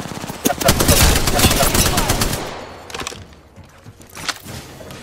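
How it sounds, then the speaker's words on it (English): Rapid automatic gunfire in the video game Apex Legends, played as Octane, with bursts of loud, close shots for about two seconds and then sparser shots and thuds. "I am taking fire, friend."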